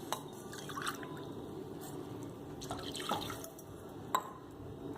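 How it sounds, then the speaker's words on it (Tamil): Water poured from a tumbler into roasted semolina for microwave kesari, a faint trickle and drip with a few sharp splashes and clinks against a glass bowl. "அதனால் 2 டம்ளர் தண்ணி ஊற்றிக்கிறேன்"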